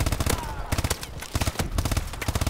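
AK-5 assault rifle firing in a video game: rapid, loud automatic bursts with short pauses between strings, heard up close and continuous.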